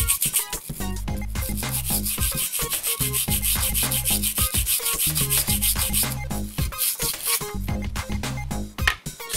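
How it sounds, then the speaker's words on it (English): Close, loud brushing and scrubbing of wet NES console parts, a steady run of quick rubbing strokes that keeps going with short breaks throughout. "I just brush the whole freaking thing, man."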